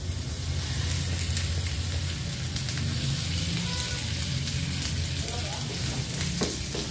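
Chicken mincemeat and mushrooms pan-frying in a pan, a steady close sizzle with stirring scrapes throughout and a faint low hum beneath.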